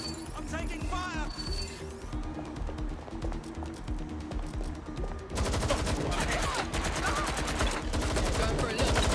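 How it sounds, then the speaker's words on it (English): Gunfire in the Watch Dogs Legion video game, rapid bursts and machine-gun fusillades that grow louder and denser in the second half, with voices speaking over the shooting. "I'm taking fire!"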